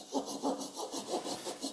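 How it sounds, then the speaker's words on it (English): A handsaw cutting off the remaining wood tenon on a workpiece mounted in a lathe, with quick, even back-and-forth strokes of rasping wood noise repeating about three times a second, close and moderately loud. "I'm gonna saw the rest off of that tenon there"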